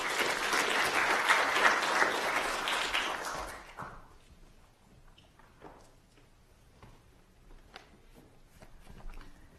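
Audience applause welcoming a speaker to the stage, loud and sustained for about four seconds, then fading out into quiet room noise with scattered faint shuffles.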